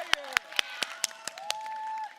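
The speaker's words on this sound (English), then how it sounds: "I need you guys to clap," Audience clapping in steady, evenly spaced claps at a gathering, several sharp hits in a row at moderate distance.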